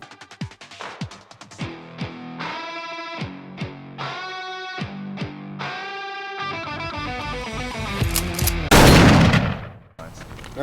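A Ruger American Gen II Predator rifle in .223 fires at an outdoor range, giving several sharp separate cracks with ringing tails, followed by a louder, denser burst near the end.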